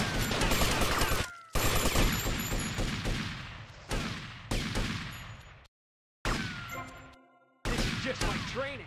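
Gunfire erupts in GTA Vice City during an attack on a police station, loud repeated volleys and rapid bursts broken by brief silences.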